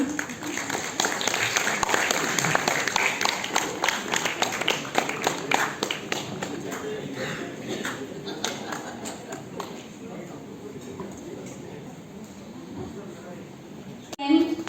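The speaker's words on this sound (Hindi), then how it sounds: "ये तालियों का सिलसिला यूं ही चलता रहना चाहिए।" Continuous audience clapping at a Ministry of MSME award ceremony, strong at first and gradually thinning and fading over the stretch, with a brief louder burst right at the end.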